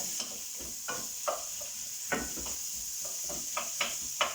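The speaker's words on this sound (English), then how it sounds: "So in the butter, I'm going to add the carrots and the onions, and I'm going to let that stir." Carrots and onions sizzling gently in butter in a pan, a quiet, steady hiss with several soft scraping stirs at irregular intervals, close by and fairly faint.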